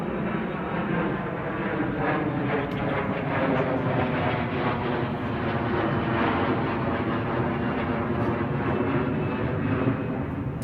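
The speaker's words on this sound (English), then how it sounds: "We'll wait until this plane leaves." A propeller or jet airplane passes overhead outdoors, giving a steady, loud, unbroken engine roar across the whole stretch with no talk.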